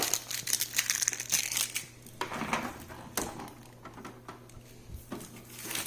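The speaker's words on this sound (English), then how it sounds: "all I'm going to do is remove the blue tape areas here, the screen protector" Blue protective tape and a screen protector are peeled off a new HP OfficeJet 8025 all-in-one inkjet printer, making loud, close crinkling and tearing plastic sounds in irregular bursts, with no talking.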